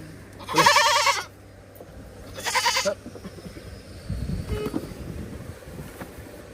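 Newly arrived goats at a farm bleat in two loud calls, each about half a second long, followed by scuffling and rustling handling noise with no talk.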